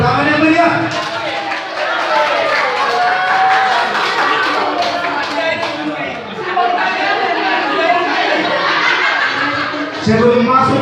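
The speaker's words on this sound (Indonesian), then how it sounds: "Iya, tepuk tangan yang meriah." Lively audience clapping and laughter fill a church hall during a Simalungun pantun battle at GKPS Pamulang, a continuous dense crowd noise with voices mixed throughout.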